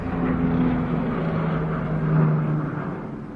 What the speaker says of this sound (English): It's been non-stop helicopters ever since I've been filming.